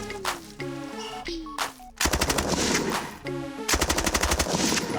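Rapid gunfire rings out on a shooting range in fast strings of sharp, loud shots with brief pauses between bursts, ringing echoes and tonal target pings sliding down in pitch.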